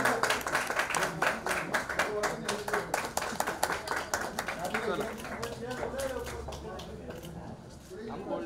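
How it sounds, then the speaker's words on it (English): An audience at a product launch for a new collection applauds, crisp individual claps close by for about five seconds before tapering off, with people talking over the clapping and continuing after it fades. "round of applause, please."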